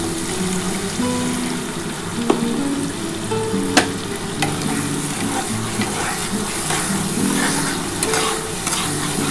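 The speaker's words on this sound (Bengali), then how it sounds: "আমি অল্প একটু জল দিয়ে দিলাম।" Sizzling tangra fish curry in mustard oil as a little water is poured in, a steady crackling hiss with occasional clinks and stirring, close and moderately loud.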